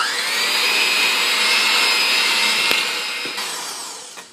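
Electric kitchen mixer beating thick ginger snap dough with molasses, a loud steady whirring drone with a high whine that slowly eases off toward the end, broken by a couple of brief clicks.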